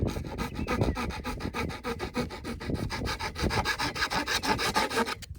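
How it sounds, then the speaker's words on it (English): A hand rasp files down a raised sliver on the cut end of plastic septic pipe, a steady run of quick, close, scratchy rasping strokes throughout with no talk. "I'm gonna take this rasp and just file that down."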